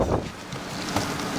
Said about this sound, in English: I think that wind's coming the other way.